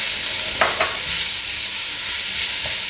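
Onions and finely sliced fresh ginger cooking gently in a pan for chutney, a soft steady sizzle with a few faint stirring scrapes and clicks near the start, no voices.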